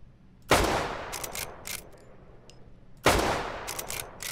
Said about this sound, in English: I'll try and shoot from here